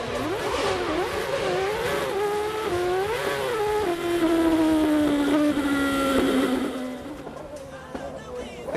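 A 2011 Red Bull RB7 Formula One car driven by Sergio Pérez at a street demonstration run in Milton Keynes, its high-pitched engine screaming loudly through rising and falling gear changes, holding one sustained high note before fading.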